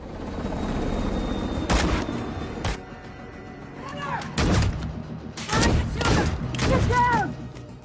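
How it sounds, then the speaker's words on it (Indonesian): Bursts of gunfire crack out in several sharp volleys, with loud impacts and shouting voices in a chaotic exchange, from a shootout involving an FBI team in the film Seventy Two Hours. "sempat terjadi aksi tembak-tembakan."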